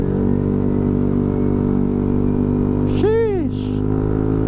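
Motorcycle engines passing close in Philippine street traffic with jeepneys, a steady loud engine drone with a rising and falling pass-by whine around the midpoint.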